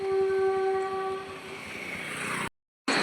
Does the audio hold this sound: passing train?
yes